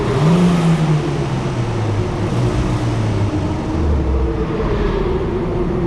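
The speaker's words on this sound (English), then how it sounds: "Give it a rev, driver. The van sounds terrible." A van that sounds rough is revved at a UK car auction, its engine holding a steady droning note that swells and dips in pitch over several seconds, with no voices heard.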